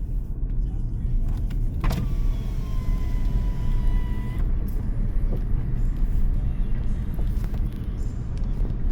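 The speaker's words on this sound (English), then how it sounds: "It's a lot of traffic." Steady road traffic rumbles from inside a moving car, a continuous low wash of engine and tyre noise with a brief whine partway through, no voices.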